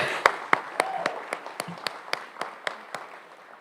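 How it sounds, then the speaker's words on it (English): Scattered, distinct claps at a high school senior awards night, roughly a dozen evenly spaced sharp hits over a soft background wash, fairly quiet and thin rather than a full ovation. "Round of applause, thank you."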